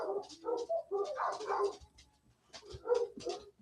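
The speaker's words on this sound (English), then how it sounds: "the dogs are losing their minds" Several excited dogs, one of them a puppy, bark and whine in short, uneven bursts with a brief lull midway, sounding faint and somewhat distant.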